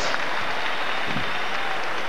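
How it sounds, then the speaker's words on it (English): Arena crowd applauding a heavyweight boxing bout after ten rounds, a steady broadband wash of clapping at moderate distance, continuous throughout with no voices above it. "a round of applause for Vasily Jirov and baby Joe Macy"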